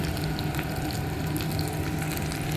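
Grated garlic hits hot oil in a home kitchen pan, giving a steady, close, continuous sizzle and crackle for a few seconds with no talking.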